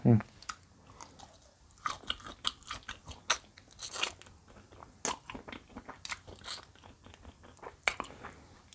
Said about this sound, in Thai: แทะกินเนื้อ